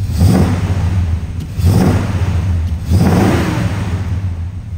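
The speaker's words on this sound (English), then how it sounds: "I'm gonna give a couple revs for you guys so you can hear the sound of that nice V8 purr." A 1985 GMC C1500 pickup with a 350 small-block V8 revs three times in a row, with a steady idle between the revs. The engine is loud and close, and no one talks over it.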